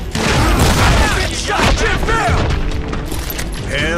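Heavy booms and thuds from a double-barreled scatter gun in the Western video game Call of Juarez, loud and close, mixed with game clatter and a dense wash of noise throughout.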